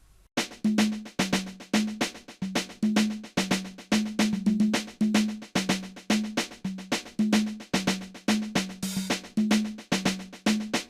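A Seben drum pattern programmed in FL Studio loops alone, with dense, rapid percussive hits over a repeating low tonal pulse, driving and loud throughout.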